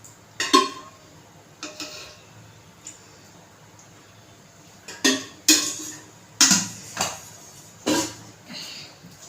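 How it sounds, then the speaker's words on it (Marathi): A kadhai pan is set down on the stove and oil is added in a home kitchen, giving several sharp metallic clanks and knocks spaced across the stretch, close by with a quiet background between them. "आता मी ते पॅन ठेवलं आहे कढई तर आपल्याला चांगलं तेल टाकायचं आहे"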